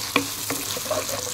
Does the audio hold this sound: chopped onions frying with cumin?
yes